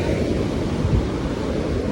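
Ocean waves washing onto a beach, a steady broad roar mixed with wind buffeting the microphone, with a low thump partway through.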